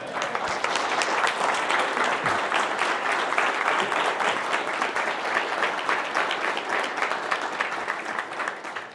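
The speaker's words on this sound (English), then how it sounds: "This is the part where you applaud thunderously." Audience applause closes a business networking talk, a dense, steady roar of many hands clapping that holds loud and even for the whole stretch with no voices over it.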